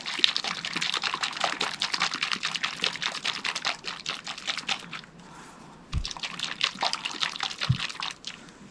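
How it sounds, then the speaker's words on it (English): A bottle of liquid starch for quilting is shaken hard, giving a dense, continuous run of sloshing liquid and rattling that pauses briefly partway through, with a couple of soft thumps near the end and no one speaking. "So this needs to be shaken."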